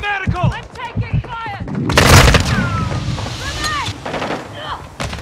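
A grenade blast in Call of Duty: Modern Warfare II lands as a loud broadband boom about two seconds in, following scattered gunshots and leaving a rumbling tail under quick bursts of fire.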